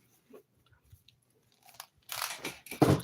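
Close, loud crunching and chewing of food in the mouth, a few faint mouth noises at first, then heavy crunchy bites building toward the end, with no talking over it.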